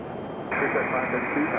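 An American Airlines airliner landing in gusty wind at Raleigh-Durham International Airport, its engine roar rising suddenly and holding steady, heard from a distance under a man's speech.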